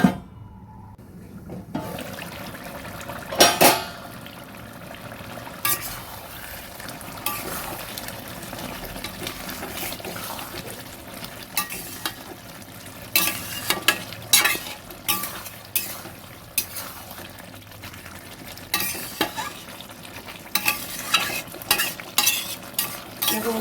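Aloo posto, potatoes with poppy seed, stirred in a pan, with scraping strokes and soft sizzling throughout and sharper clatters of the spoon against the pan at irregular intervals, close and fairly loud, with no voices.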